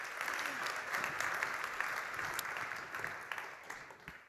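An audience at a policy assembly applauds steadily for several seconds, a dense patter of many hands clapping at moderate distance, without speech over it.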